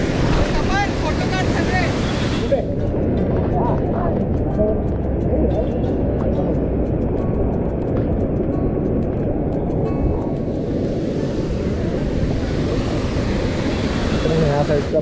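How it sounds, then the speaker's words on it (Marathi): Kumbhe waterfall in the Sahyadri hills pours in a steady, dense roar of rushing water, loud and unbroken throughout, with wind buffeting the microphone. "हा आहे कुंभे वॉटरफॉल"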